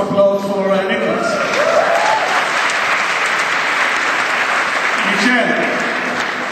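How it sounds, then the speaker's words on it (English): Sustained audience applause for Niklas Zennström at a conference panel, loud and dense clapping from a large crowd that holds steady throughout, with a voice briefly audible near the start. "So how about a round of applause for Nildas?"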